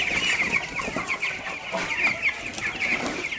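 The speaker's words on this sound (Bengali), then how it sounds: "আমি আমার মুরগিগুলোকে আজকে দেখাচ্ছি।" A flock of 16-day-old broiler chickens clucks and peeps continuously in a busy, overlapping chorus, heard up close and without anyone talking.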